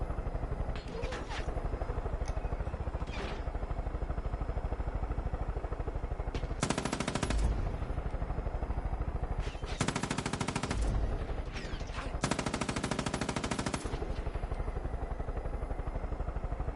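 Repeated bursts of automatic machine-gun fire from the Far Cry 5 video game, three long rattling volleys standing out loudly over steady game ambience with faint talk in places.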